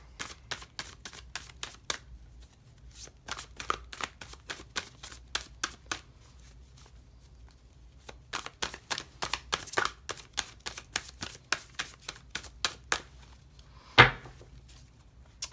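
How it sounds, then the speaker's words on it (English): Cards are shuffled in quick, crisp riffles and taps, a rapid rattling pattern with a brief pause midway and a louder knock near the end. "So, just doing a little bit of shuffling here."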